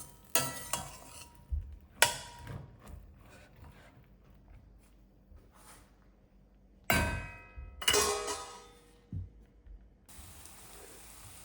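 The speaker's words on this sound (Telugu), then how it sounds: "అప్పుడప్పుడు వేయిస్తూ కొంచెం ఫ్రై చేసుకుంటాను ఆయిల్లోనే" Chopped bottle gourd and black-eyed beans frying in oil get stirred with a spoon, giving scattered scrapes and metallic clinks against the pan over a faint, quiet background.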